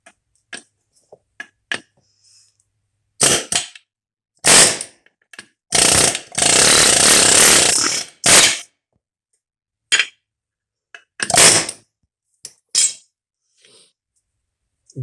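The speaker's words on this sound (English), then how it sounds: "But I'm about to pound this thing out" A U-joint being pounded apart with hand tools: a series of sharp metallic strikes and clangs, several short clusters of hits with one longer grinding burst in the middle, close and loud with quiet gaps between.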